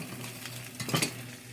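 Food browning in olive oil in a pan alongside sausage, a soft steady sizzle with a few brief clinks of a utensil against the pan, close and alone.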